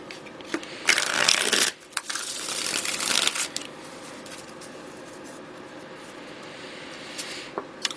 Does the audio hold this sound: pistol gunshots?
no